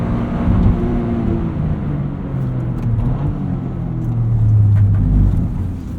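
A 2023 Toyota GR Corolla Morizo Edition's turbocharged three-cylinder engine revs steadily and climbs in pitch as it accelerates, a close, buzzy growl with no talking over it.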